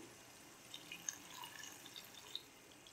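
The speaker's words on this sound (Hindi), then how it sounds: "अब इसे मिक्स करने के बाद हम इसमें पानी डालेंगे। तो 1 कप मैं पानी डाल रही हूँ।" Water poured into a pan of chicken chana dal masala, heard as faint scattered drips and light splashes over a quiet kitchen background, with no talking.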